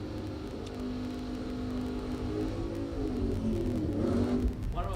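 A drag racing car does a burnout at a bracket racing event, heard as a sustained droning engine roar that builds in intensity, somewhat distant, with crowd and ambient noise around it.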